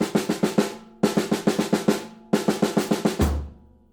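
Drum set playing a repeated triplet, triplet, quarter-note figure: three phrases of crisp, evenly spaced hits, the last ending in a sustained low ring, with no talking.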